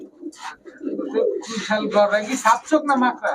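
Giribaz pigeons coo in soft, throaty bursts close by, several calls overlapping in an irregular cluster, with someone talking over them.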